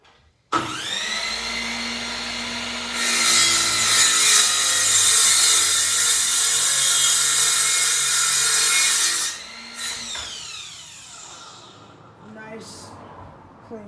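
A Ryobi 7 1/4-inch cordless miter saw spins up, then makes a loud sustained cut through wood at a 30-degree angle for several seconds. The blade whines on after the cut before it winds down.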